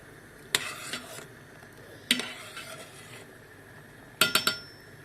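A whisk stirs yogurt soup in a metal pot in bursts, with scraping and clinking against the sides in three short rounds separated by pauses. The sound is close and moderately loud, with no voices.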